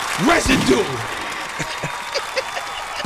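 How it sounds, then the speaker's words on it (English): An audience applauds loudly in a hip-hop interview studio, a burst of clapping that trails off as someone talks over it. "Keep the fucking round of applause going"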